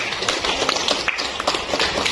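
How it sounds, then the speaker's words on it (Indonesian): Pupils in a classroom burst into brief, loud, dense clapping for everyone, a continuous patter of many hands over about two seconds. "tepuk tangan untuk kita semua"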